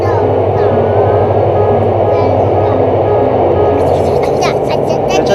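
Interior of a Gyeongjeon line Mugunghwa passenger train in motion, a steady low rumble and rhythmic hum of the carriage on the rails, with children's voices faintly chattering over it.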